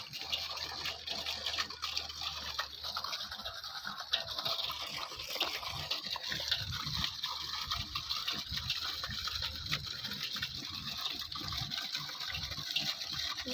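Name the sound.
small waterfall flowing on a raft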